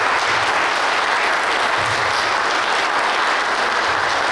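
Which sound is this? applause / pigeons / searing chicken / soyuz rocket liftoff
applause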